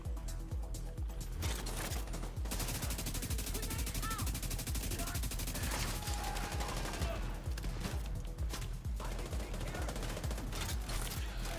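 Rapid automatic rifle fire from AK and TK-style weapons in The Division 2 video game, continuous bursts of gunshots running nearly the whole time, dense and steady, with a person talking faintly underneath.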